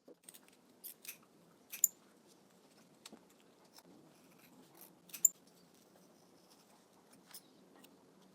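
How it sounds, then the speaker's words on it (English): Sharp scissors snipping through two stacked layers of wool felt for a bunny-shaped Easter egg cover, a few quiet, irregular crisp clicks and cuts spaced over several seconds against near silence. "Now I'm going to cut out both pieces together."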